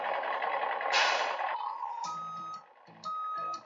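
A vehicle reversing alarm beeps several times in a steady pulsing pattern over a loud broadband engine or motor noise, close and clear, with no talking.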